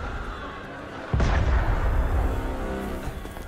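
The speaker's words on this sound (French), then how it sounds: "C'était un coup de canon." A single loud cannon shot booms out in the video game Assassin's Creed Unity, a sudden heavy blast about a second in that leaves a long rumbling tail.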